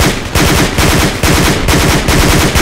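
Close, loud bursts of enemy assault rifle fire in the PRTA (Project Reality) military shooter, rapid automatic volleys of repeated shots with brief gaps between strings.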